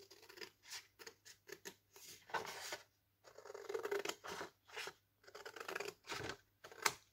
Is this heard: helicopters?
no